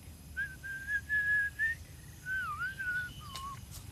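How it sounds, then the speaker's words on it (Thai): A person whistles a wavering tune in short sustained phrases, fairly faint against a quiet background, ending with a brief rising note. "ไหนผิวปากให้อาดูสิ"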